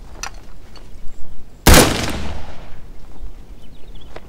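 A single loud rifle shot cracks out at shooting practice, sharp and close, with a long rolling echo fading away behind it and faint quieter sounds on either side.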